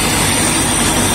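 The worn engine of a 1974 Agromet C355 tractor runs loud and close, a dense, steady rumble that lasts just over a second.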